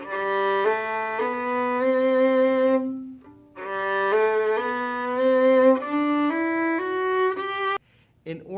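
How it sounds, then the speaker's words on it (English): Bowed violin playing a smooth run of slurred notes, each pitch changing cleanly under one continuous bow stroke, with a short pause partway through before the line resumes; close and clear, no talking. "if I would like to slur these notes, the bow continues to move while I put down my fingers"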